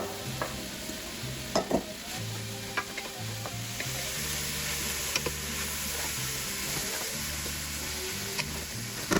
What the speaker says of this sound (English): we are just going to dump in our veggies, and we are going to saute these for a couple minutes